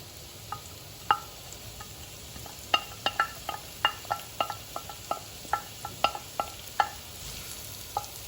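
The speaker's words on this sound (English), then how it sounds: "I've got a tablespoon of oil that's been heating up in this pan, so I'm going to add the onion first." Chopped onion cooks in a tablespoon of hot oil in a pan, a faint sizzle under repeated sharp clicks and scrapes of a utensil stirring against the pan at an irregular rhythm.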